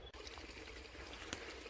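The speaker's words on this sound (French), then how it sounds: "je continue à avancer le long de mon petit ruisseau" A small forest brook trickles and pours steadily, a continuous gentle wash of water with one brief clack partway through, heard alone without voices.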